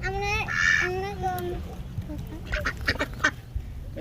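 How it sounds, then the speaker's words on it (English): Ducks quack by a pond, a few clear nasal calls near the start followed by more scattered quacks, set against outdoor background noise with people talking nearby. "There's more quacks down there."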